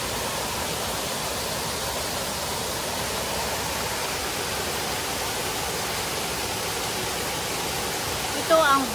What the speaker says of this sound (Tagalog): ang Bulawan Waterfalls